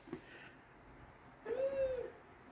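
A voice imitates a wolf howl: one sustained, wavering tone rising and falling for about half a second, fairly soft, with quiet room noise around it.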